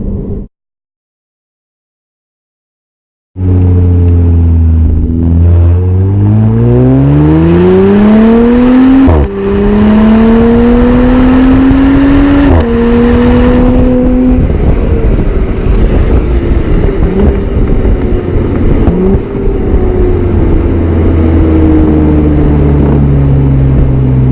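A tuned Audi B9 S4 engine roars from inside the cabin, revving up through the gears with rising pitch and shifting steps, loud and continuous after a brief silence.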